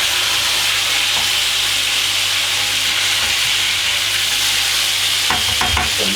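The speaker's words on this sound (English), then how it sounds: "Just going to flip the fish over." Fish frying skin-side in a hot pan, a loud constant sizzle close up, ending in a cluster of scraping knocks as the fillet is flipped over, with no talking.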